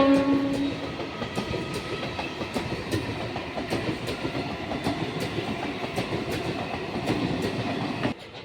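A train rolls past on the track close by, loud and continuous, with rhythmic clickety-clack of wheels over rail joints repeating steadily and a brief horn-like tone near the start.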